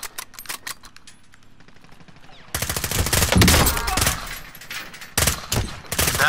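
Video game gunfire: rapid automatic bursts start faint and scattered, then turn into loud, sustained volleys, with a brief lull between two heavy stretches.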